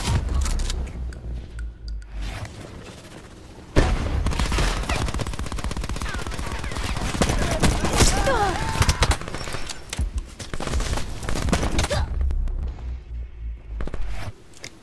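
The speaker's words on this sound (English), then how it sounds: "someone's just popping off with this gun" Rapid automatic gunfire in Black Ops 4 gameplay, long loud bursts of dense shots running from about four seconds to twelve, with quieter gaps before and after.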